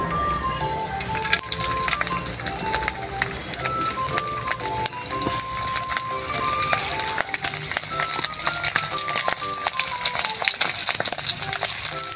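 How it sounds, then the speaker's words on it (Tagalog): Daing, dried fish, frying in a pan, a steady crackling sizzle that runs throughout, with a sustained tone and music-like notes laid over it. "Magprito po pala tayo ng"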